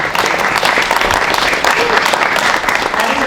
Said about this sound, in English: That is a round of applause for all of you.